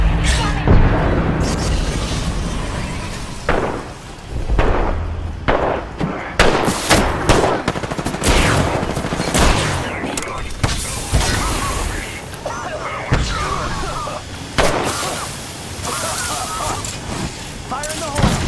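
Frag grenade blasts amid dense gunfire in the battle royale game Apex Legends, with sharp repeated booms and shots in an irregular burst pattern, under in-game voice callouts.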